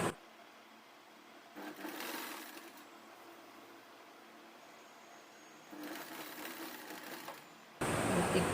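A sewing machine runs steadily while stitching a long frock, its whirring motor coming in two close, sustained bursts with a quieter pause between and a brief louder clatter at the end.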